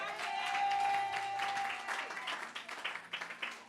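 A church congregation applauds in a continuous wash of clapping that thins into scattered, separate claps toward the end, with a sustained tone and voices faintly underneath.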